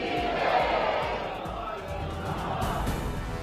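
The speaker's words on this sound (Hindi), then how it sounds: "जय माता दी के जयकार" A dense crowd of Hindu devotees at a temple chants 'Jai Mata Di' in loud, continuous, overlapping voices, swelling slightly in places with no pause.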